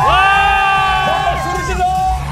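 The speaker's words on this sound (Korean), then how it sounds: "한 팀 한 팀 함성 한번 들어보겠습니다." Teams at an outdoor autumn sports day raise a loud, sustained group shout and cheer, voices blending into one ringing roar that wavers and falls over a couple of seconds.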